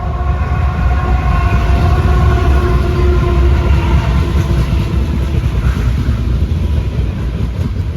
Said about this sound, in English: This is a trash train. That's what that's hauling in there.